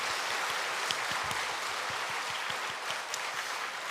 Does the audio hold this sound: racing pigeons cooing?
no